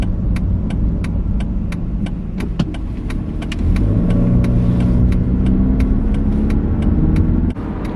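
A PT Cruiser driving at speed onto a freeway, its engine hum and road rumble steady and close from inside the cabin, rising slightly midway, with a faint rhythmic ticking throughout.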